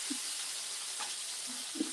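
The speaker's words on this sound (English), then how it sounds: "So we have the chicken in there, we're gonna leave it alone." Chicken pieces sizzle in very hot oil in a pan, a faint, steady hiss with a few soft pops and crackles spread across the stretch.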